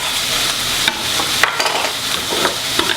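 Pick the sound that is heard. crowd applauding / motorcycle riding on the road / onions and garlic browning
onions and garlic browning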